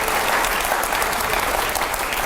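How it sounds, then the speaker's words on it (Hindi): A big audience claps loudly and continuously, a dense wall of applause throughout. "जोरदार तालियां हो जाए जरा।"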